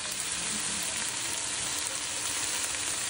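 Chicken breasts sizzle and fry in a hot saucepan, a steady dense crackle that holds evenly throughout with no voices.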